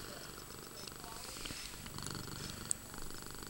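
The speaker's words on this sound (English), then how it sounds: "You are purring so loud." A house cat purrs close to the microphone, a soft, continuous rumbling flutter that swells slightly midway, with a small sharp click near the end.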